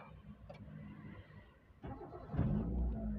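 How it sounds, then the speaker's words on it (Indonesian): A 2002 Kia Visto Zip Drive with a manual gearbox cranks and its engine catches, rising into a close, steady rumble after a brief ticking start, with no talking. "Kita tutup sambil kita nyalakan mesinnya."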